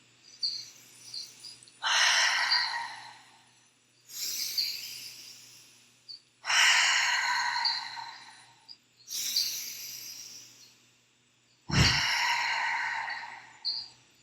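Jungle ambience in Panama, heard from a yoga studio: loud insect choruses buzz in repeated bursts of a few seconds each, separated by quieter gaps over a faint steady hum, with one low thump near the end.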